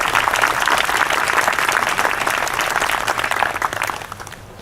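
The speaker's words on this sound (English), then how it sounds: "So please give a round of applause to the fire department." An audience at a Memorial Day concert in Fanwood applauds the fire department, a dense, loud and sustained clapping from a crowd that slowly fades toward the end.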